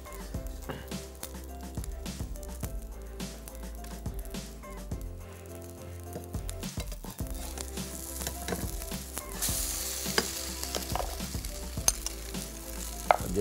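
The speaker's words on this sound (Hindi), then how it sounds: "मज़े से आपने इसको फ्राई करते रहना है।" Food sizzling in cooking oil in a pan, a continuous close crackle with intermittent clinks and scrapes of stirring, growing busier and louder toward the end.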